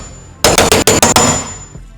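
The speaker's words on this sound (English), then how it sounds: "I'm gonna come through here again and just center punch some pilots so that my drill is nice and" A center punch strikes six quick, loud metallic taps in a fast, even burst while marking pilot holes in the door of a RAM ProMaster van, followed by one faint knock after a short pause.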